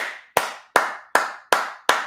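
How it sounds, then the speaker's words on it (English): Sharp hand claps come close together in a steady, even rhythm, about five loud strikes in two seconds, with no voices. "Everybody clap Lewis"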